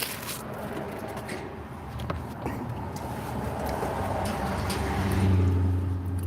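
Loud trucks drive past on a road: a steady low engine rumble with passing traffic noise swells into a heavy, close roar toward the end.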